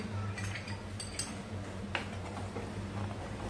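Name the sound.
stirring milk kheer in a pot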